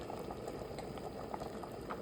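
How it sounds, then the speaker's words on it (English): Vegetarian chili broth at a full boil in a pot, a quiet, continuous bubbling with small irregular pops, close up and heard alone. "So it's come to a boil."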